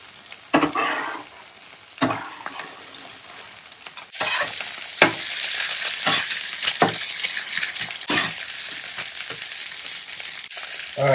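Eggs fry in a pan on an outdoor stove on a windy winter day in the Mojave Desert. A loud, close, steady sizzle is broken by occasional scraping and clinking of a utensil against the pan.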